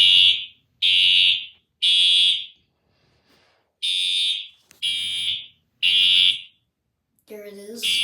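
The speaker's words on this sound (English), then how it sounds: "this is another test of fire alarm system" A fire alarm system under test sounds six loud, steady electronic tones of roughly equal length with short gaps between them, followed by a brief different warbling tone at the end.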